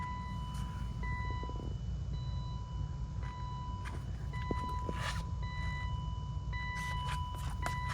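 A 2000 BMW Z3 M Roadster with a 5-speed manual gives a steady electronic warning chime, its tone repeating in even pulses, cutting in and out over a low, constant background rumble.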